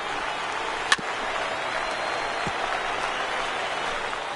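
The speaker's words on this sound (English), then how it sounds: "Now what's left of this crowd this afternoon gets to their feet." Steady broadband crowd applause and cheering from a ballpark crowd in the baseball video game MLB The Show 19, a continuous even roar with a sharp crack near the start, no talk.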